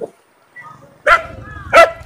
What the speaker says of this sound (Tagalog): Let's go far away from the dog.